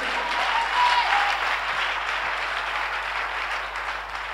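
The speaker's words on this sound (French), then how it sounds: "Give God a big clap." A church congregation applauds God during a worship service, a dense, steady wash of many hands clapping at close range, filling the room for several seconds.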